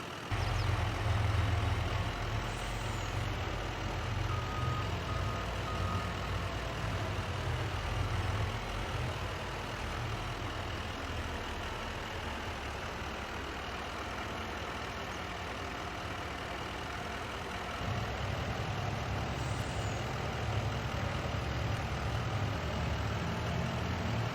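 In Farming Simulator 22, a tow truck loads a broken 2006 Chevy truck with a failed transmission. A heavy diesel engine idles steadily and fairly close throughout, its low rumble briefly dipping and then returning, with no talk.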